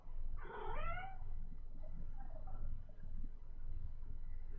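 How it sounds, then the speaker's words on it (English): A house cat meows to be let out, one clear drawn-out meow close by followed by a fainter, shorter second call over a low steady background hum. "sounds like I need to let the cat out."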